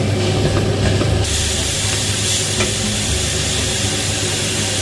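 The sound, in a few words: pork loin pan frying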